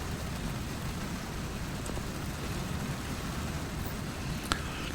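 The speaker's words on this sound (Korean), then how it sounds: "비가 주룩주룩 내리기 시작합니다" Rain pours steadily at a highway rest area, a dense even hiss of drops on surfaces with a faint distant rumble underneath and one small tap near the end, no voices.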